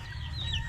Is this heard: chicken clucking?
yes